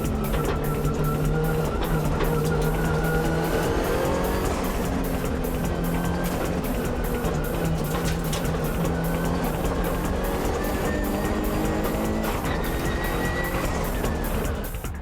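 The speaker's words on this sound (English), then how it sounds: "But Morito's Impreza is closing in on the downhill corner." A Subaru Impreza and a Nissan S15 racing downhill into a hairpin, with loud continuous engine roar and revving throughout and occasional tire noise, close and dense.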